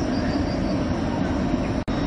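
LNER passenger train on the East Coast Main Line near Berwick upon Tweed rumbling past with a steady, loud roar of wheels on track, broken once by a very brief dropout near the end.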